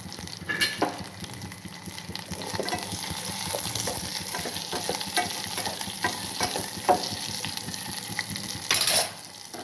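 Chopped onion sizzles and fries in hot ghee for a tempering, a continuous crackling sizzle with stirring scrapes and a louder burst near the end, no talking.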